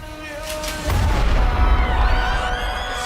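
Film gunfire from Shotgun Wedding, a heavy boom that cuts in loudly over background music and rolls on as a dense, reverberant rumble of shots and blasts.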